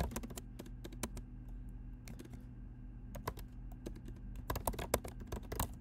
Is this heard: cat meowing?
no